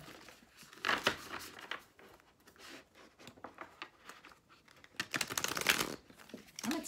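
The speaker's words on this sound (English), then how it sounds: "I watch people shuffle cards when I'm watching my other readings" Tarot cards being shuffled by hand close up, irregular bursts of papery riffling and soft slaps with brief pauses between, with no one speaking.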